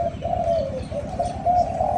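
A Thai competition cage dove, a mid-pitched young bird, coos in a steady run of soft, rounded, repeated notes, close and clear with no one speaking.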